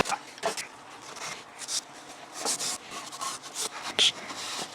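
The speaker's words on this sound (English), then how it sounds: "get a nice clean rag, wipe those grooves out" A clean rag wipes leftover brake cleaner out of the valve cover gasket grooves on a 2004 Toyota Camry, giving short repeated rubbing strokes, close and fairly quiet, with no talking.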